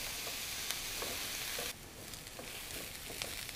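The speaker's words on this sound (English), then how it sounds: "now the onions and garlic are gonna saute on medium-high for about 2 minutes until the onions are golden" Onions and garlic saute in a pan over medium-high heat, giving a steady close sizzle that drops slightly quieter partway through, with faint stirring ticks and no voices.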